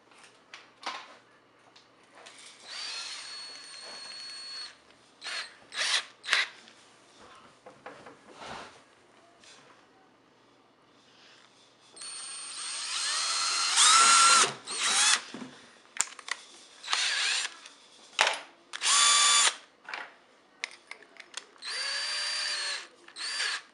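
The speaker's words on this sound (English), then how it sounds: "Just using a regular drill." A regular power drill whirs in short, intermittent bursts, starting and stopping repeatedly, then longer louder runs as it bores pilot and larger holes through a plastic pail up close.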